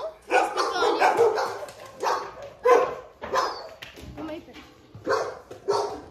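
A group of dogs barks repeatedly in irregular bursts, fairly close and loud, mixed with people talking over them on a neighborhood street.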